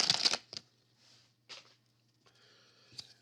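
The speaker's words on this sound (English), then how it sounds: "And then we'll go to 1990 Leaf Series 1, looking for Sammy Sosa, Ken Griffey Jr., John Olerud, among a few other cards out of the set here" Cards from a 1990 Leaf Series 1 baseball pack are handled and flicked, giving a few quiet, separate rustles and snaps with pauses between them.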